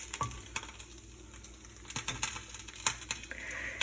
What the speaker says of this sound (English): So first I get them off with my handy dandy spatula.